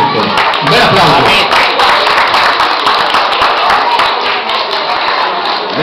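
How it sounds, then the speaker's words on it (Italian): An audience at an Italian Christmas shop-window contest prize-giving bursts into loud, sustained applause, a dense wash of many hands clapping close by with a few cheers mixed in. "Un bel applauso!"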